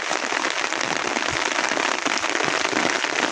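Heavy rain pours steadily in hilly Bangladeshi country near the Indian border, a dense, even hiss of drops with no break.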